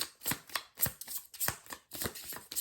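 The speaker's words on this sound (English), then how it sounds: "Oh, my shuffling skills are not on point today." Crisp papery riffling of tarot cards being shuffled, several quick bursts in a steady rhythm, close and clear with no talking.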